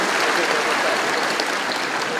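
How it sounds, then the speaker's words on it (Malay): Loud, steady audience applause at a Malaysian ceremonial event, following a performance, dense clapping filling the whole stretch without a break. "Berikan tepukan"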